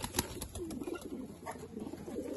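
Pigeons of an old breed coo softly in a loft, faint low murmuring calls over a quiet background with a few light rustles.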